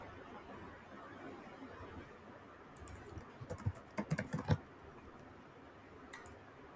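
Someone types a search into a computer keyboard: a quiet flurry of soft key clicks in the middle and a brief pair near the end, set against low background hiss.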